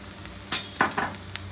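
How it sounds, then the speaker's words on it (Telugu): Onions hit hot oil in a pan for a spicy murrel masala curry, a quick burst of sizzling with a couple of clinks and stirs, close and brief. "ఇప్పుడు ఉల్లిపాయలు సరిపడగానే వేస్తున్నానండి"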